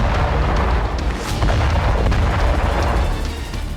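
An explosion on Iran's gas pipeline: a loud, continuous deep roaring rumble with scattered sharp cracks and pops throughout, with no voices.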